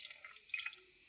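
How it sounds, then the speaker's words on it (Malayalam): A quarter cup of water is poured over a large broken piece of jaggery in a pan, a brief, soft trickling splash, faint and close, lasting about a second. "ഒരു 1/4 കപ്പ് വെള്ളം ഒഴിച്ച്"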